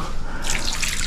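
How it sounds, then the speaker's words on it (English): Water poured into a pot of thickening tumbukiza soup on the stove, a short steady splashing rush that brightens partway through, close and fairly loud with no talking. "let me add a little water"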